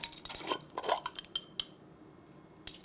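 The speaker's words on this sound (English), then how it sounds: "Just gonna give this a nice little stir." Utensil scraping and clinking against a bowl while stirring flour seasoned with paprika, cayenne, salt and pepper, in quick irregular bursts, close by, then quieter occasional taps.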